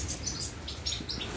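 Goldfinches in an aviary, just past their moult, let out a quick run of bright, high chirps and tweets, fairly faint against a soft background hiss.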